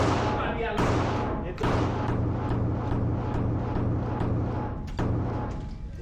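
Gunshots from a Glock 47 MOS 9mm pistol firing Norma Range and Training 124 grain ammunition at a range, a few loud sharp reports spaced about a second or more apart over steady background noise.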